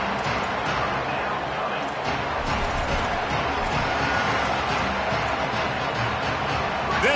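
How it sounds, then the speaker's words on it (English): Steady roar of a college football stadium crowd at Auburn in a video game, a dense wash of voices holding constant throughout, with a commentator talking over it. "This Auburn crowd trying to conjure up a little magic here on 3rd down."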